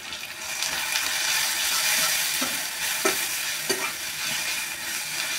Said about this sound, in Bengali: যতক্ষণে মশলাটা ভাজা হবে